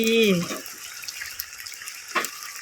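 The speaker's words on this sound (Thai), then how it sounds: "เติมน้ำซุปหรือน้ำสะอาดลงไปนะคะสักประมาณ สองทัพพี" Soup stock or water goes into a pan of clams being stir-fried with chili paste, a short splashing pour heard after a brief voice at the start.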